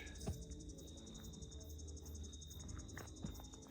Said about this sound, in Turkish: Cırcır böceği sanırım.